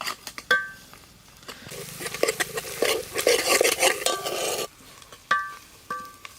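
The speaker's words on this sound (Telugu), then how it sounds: "ఫ్రెష్గా దంచిపెట్టుకున్న అల్లం వెల్లుల్లి పేస్ట్ వేసుకుంటాను. ఎందుకంటే నూనెలో వేసుకోవాలి." Freshly pounded ginger garlic paste frying in oil for a goat head curry, clanks of a spoon against the pan framing a burst of loud sizzling and stirring in the middle.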